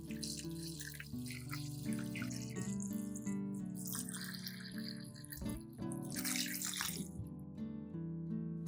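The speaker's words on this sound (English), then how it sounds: "Then pour cold or room temperature water over the corn." Cold water pours from a tap over corn in a basin, giving a continuous faint splashing and trickling with shifting tone, quiet and close throughout.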